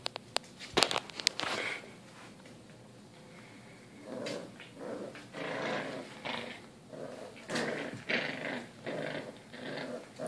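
A puppy growls and grumbles in a series of short, close bursts, with scuffling and rustling between them and a few sharp knocks near the start.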